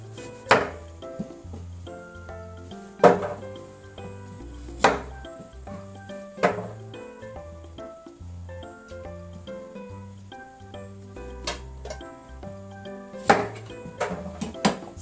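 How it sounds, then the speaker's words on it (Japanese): A lemon being finely minced with a knife on a board, sharp irregular chopping knocks landing in quick bursts over soft background music. "このレモンはみじん切りにしていきたいと思います"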